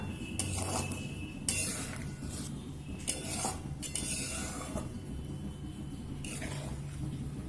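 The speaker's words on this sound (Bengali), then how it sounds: "যে ফিশ বলগুলো করে রেখেছি বলগুলো দিয়ে দেব আর দিয়ে দেব দুটো চেরা কাঁচা লঙ্কা" Fish balls and slit green chillies going into a pan of cooking curry, with repeated clinks of utensils against the pan over a steady simmering background, no talk.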